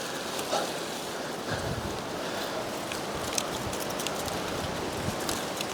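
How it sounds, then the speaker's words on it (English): Steady outdoor wind roars and buffets continuously, with broadband gusty rushing and brief louder bursts, recorded where an Axial Capra UTB18 RC crawler with overdrive front gears is being driven. "So much wind."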